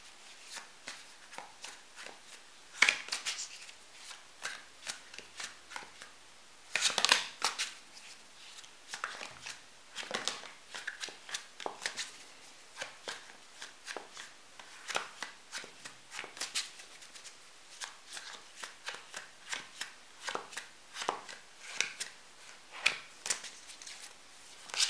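Tarot cards being shuffled by hand, a long, steady stream of soft riffling and slapping card sounds, close and quiet, with no speech.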